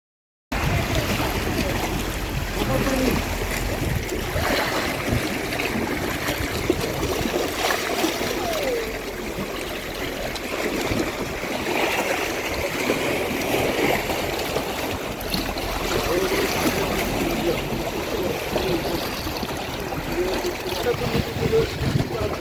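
Sea water washes against the harbour at Samsun port in Turkey in a continuous rushing, lapping roar, with people's voices mixed into the background throughout.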